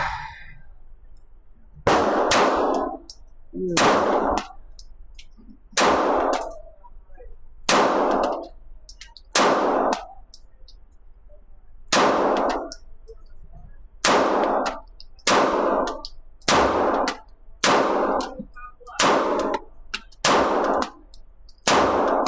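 Sig Sauer P320 Flux Raider Legion 9mm pistol fired on an indoor range pistol bay at steel targets about 32 feet away, giving a steady series of roughly a dozen loud, sharp shots with ringing metallic clangs, no talking.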